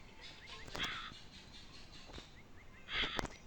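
A crow caws in the Bangladeshi video game Meena 2, two loud harsh caws about two seconds apart with fainter calls between.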